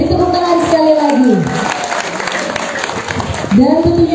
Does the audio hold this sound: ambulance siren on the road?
no